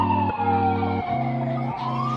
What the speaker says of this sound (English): Yeah, but you hear them sirens